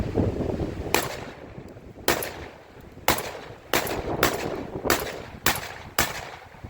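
A Panzer EG200 shotgun fires Federal game load shells, 1 1/4 ounce, seven sharp blasts spaced about a second apart outdoors, each with a short decaying tail and faint background noise between.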